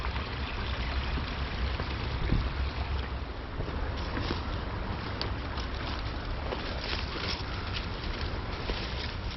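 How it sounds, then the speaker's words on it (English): Little Cottonwood Creek flows in a Utah canyon, a steady loud rush of water that is close and continuous, with no talking. "you hear the stream come down"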